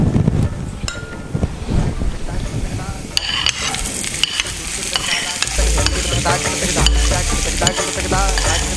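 Onion frying in oil with cumin for moong dal patties, heard as a loud, close sizzle with busy spatula stirring and scraping, plus some wind-like rumble and clattering bursts.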